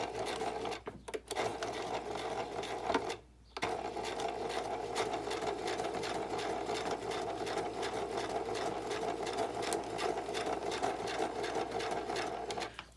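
A sewing machine stitches straight lines across the bottom of a paper ephemera folio, running in a fast, continuous mechanical whir with one brief pause partway through, close and steady with no talking.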